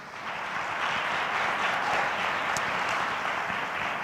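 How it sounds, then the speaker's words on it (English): Steady, continuous applause from an audience at a Women's Month celebration, a dense wash of many hands clapping at even loudness for the full few seconds. "I think she deserves a round of applause"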